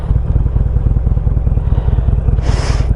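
A Harley-Davidson Sportster Classic motorcycle rumbles low and pulsing as it is ridden and eased down in speed, its loping engine beat steady up close, with a short hiss of wind or air near the end.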